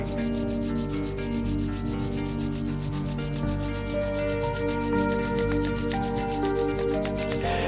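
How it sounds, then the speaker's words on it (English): Palms rubbed briskly together at the close of a guided meditation, a steady dry brushing texture running throughout beneath sustained background music. "Rub your palms nicely together."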